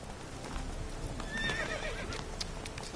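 Roach, the horse in The Witcher 3, gives a clear whinny over close, steady hoof clip-clops on the ground, with ambient game sound behind.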